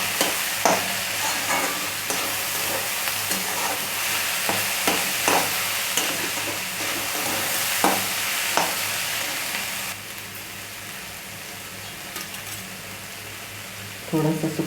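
Onion fries in oil over a high gas flame for chicken chutney, stirred constantly, so a loud, steady sizzle runs under repeated scraping and clatter that quiets toward the end before a final burst of stirring.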